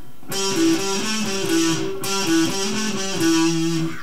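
A distorted electric guitar plays a song's solo, a sustained melodic line with bent, held notes over a chugging backing, steady and loud throughout.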